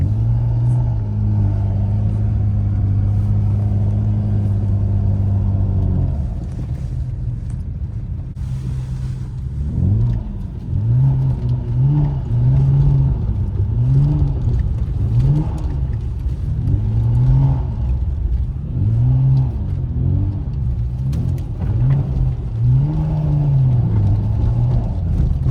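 A BMW 335i engine revs while driving in snow, first a steady low drone, then repeated rising and falling surges as the throttle is worked in short bursts, fairly close and loud.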